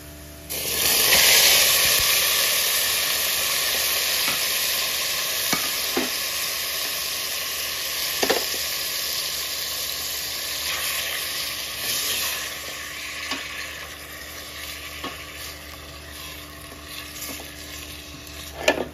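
Beef chunks for pares sautéing in a hot pan give a loud, steady sizzle that swells at the start, then settles into a continuous hiss with occasional scraping stirs, with no talking.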